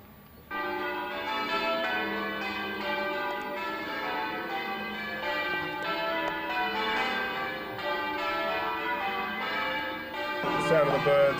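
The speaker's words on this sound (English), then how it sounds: "the sound of the birds and the bells." Church bells peal continuously in a rich, overlapping ring that starts abruptly and holds steady, fairly loud and open-air; birdsong is not clearly distinguishable beneath them.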